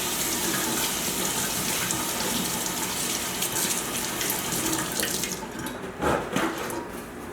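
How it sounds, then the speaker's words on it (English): Tap water runs steadily as hands are rinsed at a home kitchen sink during cooking, a fairly loud continuous rush that cuts off near the end, followed by a few faint handling knocks. "Rinse my hands."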